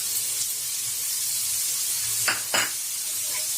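Curry leaves and carrot fry in hot oil in a pan: a soft, steady sizzle runs throughout, broken near the end by two short, brighter bursts of hissing spatter.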